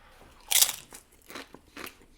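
Tortilla side chips are crunched in several crisp bites close to the mic, with one loud crunch followed by a few softer chewing crunches, and no talking.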